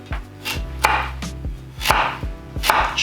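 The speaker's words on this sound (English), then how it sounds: "chunk our carrots up." Carrots chunked with a knife on a cutting board for a vegan Thai panang curry with tofu: about six sharp, close chops spaced roughly half a second apart, each a crisp thud with a brief crunch, no voices.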